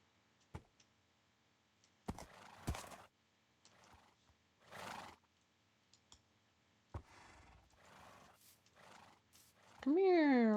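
Minecraft horse giving a single loud, close whinny near the end, after sparse clicks, faint snorts and quiet gaps, with a person talking earlier.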